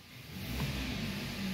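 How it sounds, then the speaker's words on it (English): A VW car engine revs up briefly as the accelerator is pressed, a short, close rise in engine hum that holds steady for the rest of a second or so. "As soon as I hit the pedal just a little bit, the RPM reacts"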